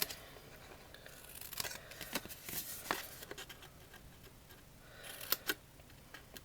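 Scissors snip through card while tabs are cut for a perpetual Advent calendar base, a run of quick, close, quiet cuts and paper rustles with no talking.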